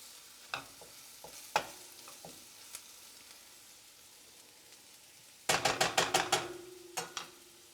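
Taco seasoning is stirred into food frying in a pan, a close scrape and clack of a utensil against the pan in scattered taps, then a quick rapid run of stirring strokes over a soft sizzle.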